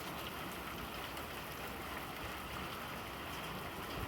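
Hail drums down steadily during a hailstorm in Kingman, a dense, even patter of countless small impacts, quiet and distant with no pauses.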